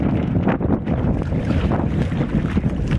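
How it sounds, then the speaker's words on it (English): Strong wind roars across the microphone while a sailboat moves on Lake Kaweah among treetops, a loud, constant rushing gust with buffeting and faint water noise beneath, no talking. "It's in a pretty good wind."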